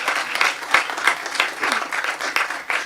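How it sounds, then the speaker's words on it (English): Audience applause at a quarterly board meeting, with many hands clapping in a steady, dense patter that swells and dips slightly, fairly close, with no talking over it. "could we please give them a round of applause for a great event"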